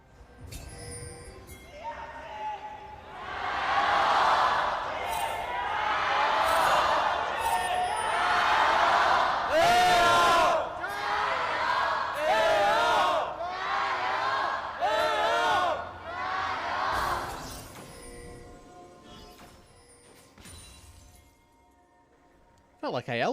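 Large esports arena crowd at an LPL League of Legends match between AL and BLG, cheering and shouting in sustained loud swells that rise and fall over about twenty seconds, with voices mixed in, before fading.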